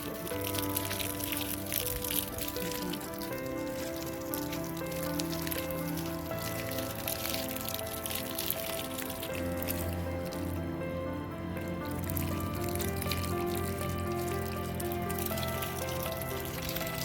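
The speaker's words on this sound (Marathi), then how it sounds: "असं मी झाडांना पाणी घालते" Water splashing and trickling steadily onto soil and fertilizer at the base of grapevines in a vineyard, a continuous close pouring sound with no talk.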